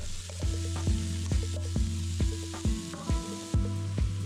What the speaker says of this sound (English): toss those onions, celery, and carrots right into the pot. Give them a quick stir and let them saute for 3 to 4 minutes.